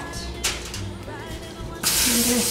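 A sharp aerosol cooking spray hisses loudly for about a second over a marshmallow mix, following quieter kitchen clatter.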